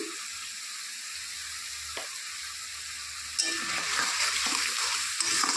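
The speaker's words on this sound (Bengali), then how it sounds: "সব কিছু উপকরণ একসঙ্গে ভালো করে কষিয়ে নেব" Ingredients and ground spices (chili, cumin, coriander, salt) for fish kalia being sautéed and stirred in a pan: a soft sizzle that grows louder and busier partway through, with stirring scrapes.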